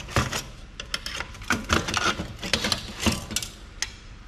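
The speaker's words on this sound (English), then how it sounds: "To get at that, we just have to pop this part up." A plastic part on an old Compaq PC is pried up, giving a close series of sharp plastic clicks, creaks and snaps in irregular bursts, with no talking.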